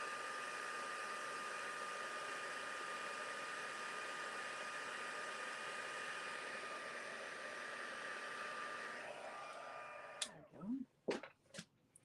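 A heat tool blows steadily and close for about ten seconds, a continuous whooshing hum while embossing powder on a handmade card is heated, then it cuts off and a few soft clicks and handling noises follow.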